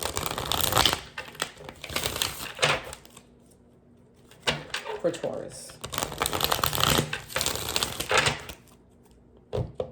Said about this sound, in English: Sorry about the shuffling if it's loud.